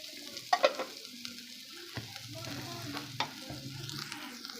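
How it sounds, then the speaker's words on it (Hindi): Finely chopped small onions fry in ghee in a pan, giving a soft, quiet sizzle punctuated by a few sharp utensil clicks and scrapes as they are stirred. "अब प्याज को हल्का सा मैंने फ्राई कर लिया।"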